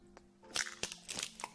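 A man bites into crunchy slime, several close, crisp crunches and crackles in an irregular rhythm, with no talking over them.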